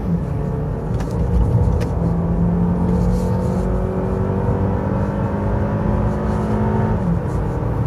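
Honda Accord G9 on a test drive, kicking down and accelerating hard: a steady loud engine drone with rising harmonics that climb smoothly for several seconds, cabin rumble underneath.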